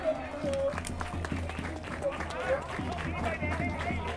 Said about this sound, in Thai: ขอกำลังใจเสียงปรบมือให้กับนักเตะทวีวัฒนาสมุทรสาครอีกครั้งครับ